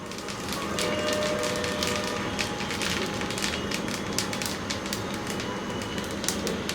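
Whole spices, fennel seeds and fenugreek, fry briefly in hot oil for tempering, giving a steady close crackling sizzle with scattered sharp pops throughout, no voices.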